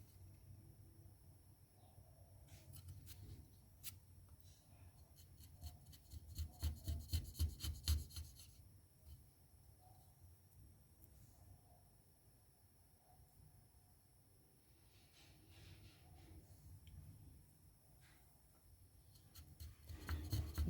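Wood carving with a Stubai number 8 chisel: quiet, close scraping and rasping cuts, with a quick run of rhythmic strokes in the middle and scattered softer shavings on either side.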